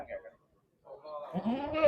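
Goat bleating at a Punjabi goat market (bakra mandi), with a short bleat at the start and a louder, wavering bleat rising toward the end, close by amid market noise.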